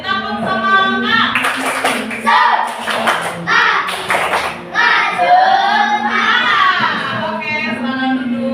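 A class of young schoolchildren performs a rhythmic spirit clap, with bursts of sharp hand claps and thumps from jumping, mixed with a teacher's voice and children's chanting and chatter throughout.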